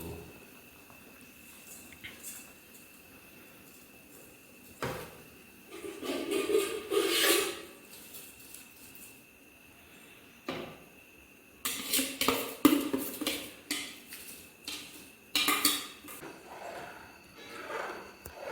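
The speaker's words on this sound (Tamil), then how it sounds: "இப்போ அரிசியை போட ஆரம்பிச்சு" Rice is poured into a pot of boiling water with rattling, rustling pours over a low bubbling simmer, in several bursts.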